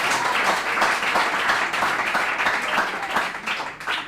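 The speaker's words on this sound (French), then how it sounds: "Est-ce qu'on peut l'applaudir?" An audience at a TV show applauds a contestant, thick steady clapping close by that continues for several seconds and thins slightly near the end, with no speech.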